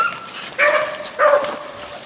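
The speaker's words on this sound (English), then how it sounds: "Let the dogs catch him, Mr. Eddie." Two yelping barks from hunting dogs chasing a rabbit, close and fairly loud, one after the other over a brief stretch of outdoor background noise.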